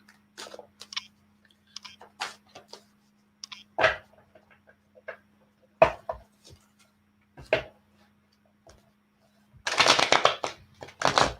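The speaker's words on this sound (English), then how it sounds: "Let me just pull some more cards." Tarot cards handled during a live reading: scattered crisp slaps and flicks as cards are pulled and laid down, ending in a longer riffling shuffle burst, close and clear in an otherwise quiet room.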